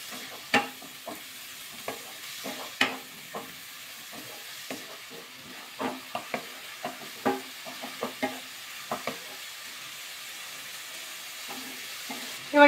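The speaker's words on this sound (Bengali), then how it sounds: "আর ভালো করে একটু মিশিয়ে নেব।" Masoor dal and cabbage are stirred in a pan, giving a faint low sizzle with scattered, irregular scrapes and knocks from the spoon, fairly quiet and without speech.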